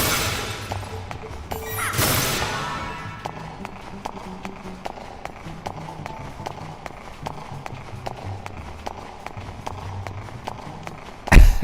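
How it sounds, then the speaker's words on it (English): Heavy, evenly spaced footsteps in a PS2 video game: a loud, regular thudding stride that carries on for several seconds, interrupted early by a whooshing game effect and ending in a sudden heavy impact. "Man, those are some loud footsteps."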